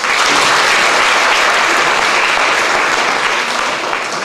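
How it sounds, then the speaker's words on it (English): A comedy show audience claps loudly and steadily, a dense, continuous wash of applause lasting several seconds with no talk over it. "clap if you're Muslim"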